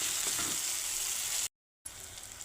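Ginger garlic paste sautéing in oil for a drumstick curry, a strong close sizzle and crackle that cuts out briefly partway through, then resumes. No one speaks.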